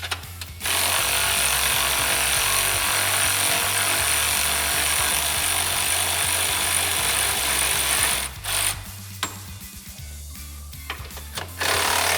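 Impact wrench or power tool loosening lower A-arm hardware on a Can-Am Commander side-by-side, a loud continuous buzzing rattle for about eight seconds, then brief bursts and clanks after it stops.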